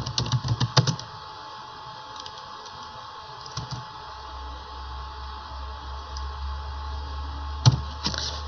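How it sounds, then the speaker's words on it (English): Keys tapped on a computer keyboard while entering a short bulleted list in Microsoft Word, a brief burst of clicks near the start and another near the end, with a steady low hum filling the quiet between. "So we're going to type in hiking and biking and"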